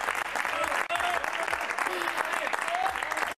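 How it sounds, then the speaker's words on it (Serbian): Studio audience applause in a TV studio, steady close clapping throughout with a few faint voices underneath, stopping abruptly at the end. "Jedan aplauz za njih,"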